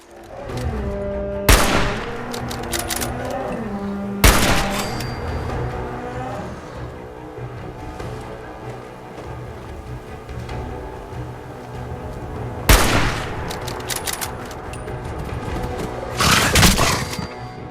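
Sniper rifle fire in the post-apocalyptic shooter Fallout 4: four loud, sharp cracks spaced several seconds apart, each with a booming tail, over a steady bed of game music and ambience.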